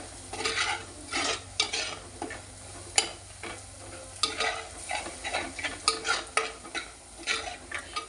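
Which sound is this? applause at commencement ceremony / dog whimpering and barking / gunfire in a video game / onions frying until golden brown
onions frying until golden brown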